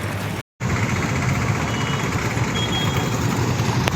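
A Bullet motorcycle rickshaw engine running close by, a steady loud throbbing drone that holds throughout after a brief cut at the start, with no talking.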